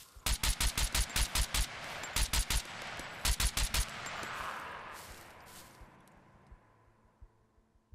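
Automatic AK rifle fire in the survival game SCUM: several rapid bursts of sharp, loud shots crackle in quick strings over the first four seconds, then fade into a lingering echoing rumble.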